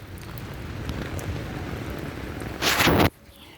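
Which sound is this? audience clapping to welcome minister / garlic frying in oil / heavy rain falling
heavy rain falling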